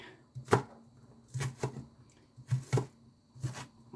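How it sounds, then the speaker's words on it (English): A knife cutting onions on a board, four distinct chopping strikes with short pauses between them, close and fairly quiet, no voices. "It's just really hard to cut onions."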